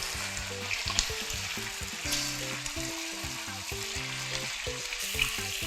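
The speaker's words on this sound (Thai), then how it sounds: "เสร็จแล้วค่ะเราก็วางไก่ลงไปเลย ค่ะเสร็จแล้วด้านล่างนะคะพอเริ่มสุกประมาณนี้ก็กลับด้านได้เลยค่ะ" Chicken pieces fry in a pan for cola chicken, a steady, close sizzle that runs the whole time with faint crackles and occasional stirring, and nobody speaks.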